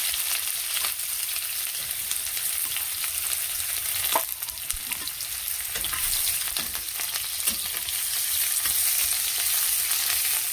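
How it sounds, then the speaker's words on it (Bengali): Chopped onions fry in hot oil in a pan, a steady close sizzle running through with a few sharper crackles and stirring scrapes, no voices. "পেঁয়াজটা একটু ভেজে নেব।"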